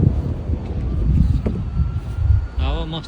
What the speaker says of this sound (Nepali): हावा मस्त चलिरहेको छ तर शीतल हावा है